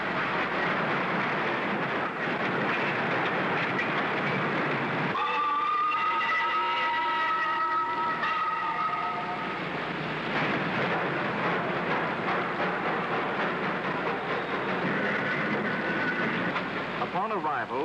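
Small engines labor and rumble pushing rail cars up an inclined railway to steel furnaces in 1938, with clanking and a steady mechanical roar, a brief whistle-like harmonic tone; voices murmur faintly underneath.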